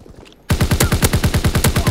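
A BAR rifle fires in the World War II video game Call of Duty, starting with a sudden loud burst after a brief quiet moment and then sounding as a fast, even string of about a dozen rapid shots.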